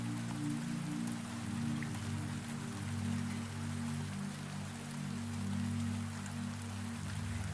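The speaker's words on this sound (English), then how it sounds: "listen to the rain whispering against the glass" Rain patters softly and steadily against greenhouse glass at night, a gentle continuous hiss of drops over a low, even hum, with no voices.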